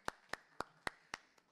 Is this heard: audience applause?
yes